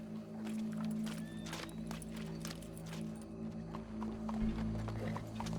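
A horse's hooves clip-clop in the Western video game Red Dead Redemption 2, a faint, steady walking rhythm over a low ambient hum.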